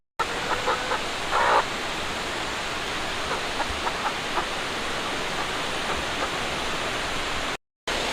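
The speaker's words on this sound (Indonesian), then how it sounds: "ini adalah sungai yang lokasinya berdampingan dengan rumah 3 lansia yang terisolasi di lingkungan Sangket" A river runs beside an isolated house where three elderly siblings live at the bottom of a ravine, giving a steady broadband rush of flowing water, with faint bird calls and a brief louder splash early on.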